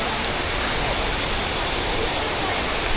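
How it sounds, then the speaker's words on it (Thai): Rain falls hard across Siam Square in Bangkok, a thick, constant roar of drops striking the ground nearby, steady and loud from start to finish. "อุ้ยทุกคนฝนตกแรงมากเลยอ่ะ"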